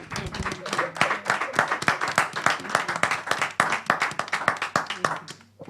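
A church congregation claps and applauds in a dense, continuous burst of many hands, loud and close, with voices mixed in, fading toward the end.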